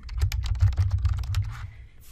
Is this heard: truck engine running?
no